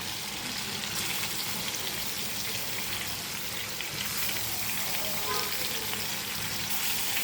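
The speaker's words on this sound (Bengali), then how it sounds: "আমি এখানে ইলিশ মাছগুলো অ্যাড করে দিচ্ছি একে একে।" Hilsa fish pieces frying in a pan, a strong continuous sizzle close by with bubbling crackles and brief flare-ups as pieces go in.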